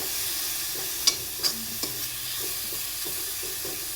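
Dill greens fry in a pan while being stirred, giving a steady soft sizzle with a few sharp scrapes and clinks of the spoon near the start, close and even, with no voices.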